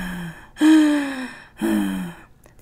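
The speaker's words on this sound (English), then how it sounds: "My creepy breathing." Two long, deep, drawn-out breaths sound close and loud, each a raspy inhale-like rush lasting about a second with a short pause between, made by a person breathing deliberately in an eerie, unsettling way, no words spoken.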